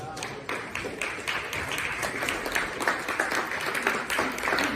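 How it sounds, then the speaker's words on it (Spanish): Church congregation clapping together, a steady run of dense handclaps filling the room at moderate distance, with some voices mixed in. "Denle palmas a la palabra"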